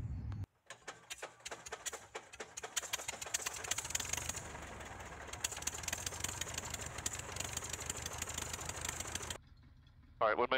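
An antique taildragger airplane engine idles with a steady, loud, dense rumble and rapid firing pulses, running continuously before cutting off abruptly near the end.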